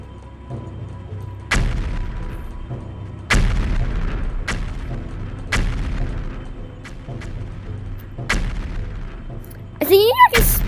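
Cannons on a video game boss fire in heavy booming blasts, five spaced roughly every two seconds, each with a short rumbling tail, followed by a brief squealing burst at the end.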